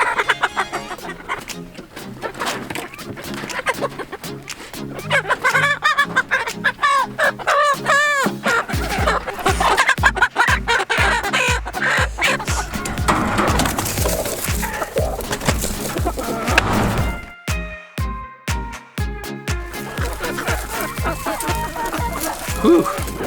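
Young chickens (pullets) clucking and squawking while being moved, with wooden knocks, clatter and handling noises throughout; voices talk intermittently amid the busy scuffling.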